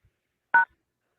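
A short single telephone tone, the dialing or connecting beep of a call-in line on a live show, rings out clearly on its own in silence.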